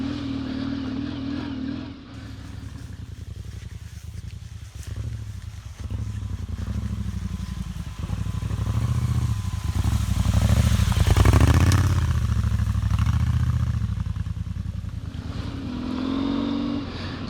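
An off-road trail motorcycle rides a rutted dirt track through the hilly Ardennes forest in autumn. The engine drones steadily close by, then swells louder as it revs through the middle before easing off again.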